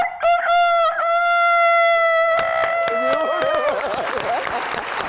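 A man vocally imitates a rooster's crow, one long drawn-out cock-a-doodle-doo with strong harmonics, close and loud, ending in a wavering, breaking trail of voice and crowd noise.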